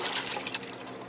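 Cooking liquid with leftover scraps pours through a colander to drain, a brief steady rushing splash at close range with no talk.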